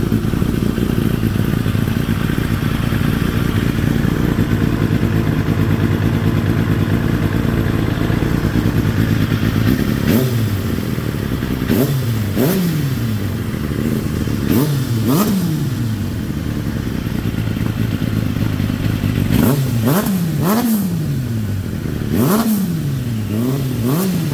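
A Kawasaki ZX7R motorcycle with an inline-four engine idles loudly close by, then gives a series of sharp revs that rise and fall quickly, several of them in quick bursts near the end.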